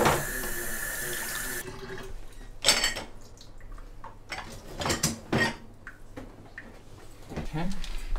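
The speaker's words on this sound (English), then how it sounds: "Just rinse them off, make sure there's no food on them" Tap water runs into a sink while dishes are rinsed, a steady hiss at the start giving way to intermittent splashes and clinks, with people talking throughout.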